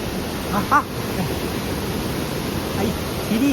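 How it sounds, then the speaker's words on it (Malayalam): Kurichiyarmala waterfall pours in a steady, dense roar of falling water heard close by, continuous throughout with a brief faint bird-like chirp over it. "ഞങ്ങൾ കണ്ടെത്തി വെള്ളച്ചാട്ടം."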